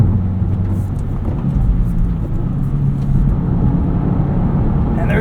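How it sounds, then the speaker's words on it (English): A 2024 Subaru WRX TR's exhaust gives a steady low rumble while driving, with faint gear whine under a constant broadband road and cabin drone, heard from inside and without talk. "Exhaust is still on the quieter side. However, I do think this sounds pretty good. It's got that classic Subaru rumble"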